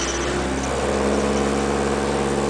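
A car engine running during its first test drive after work on the transmission and clutch, a loud, steady, close droning hum with no talk.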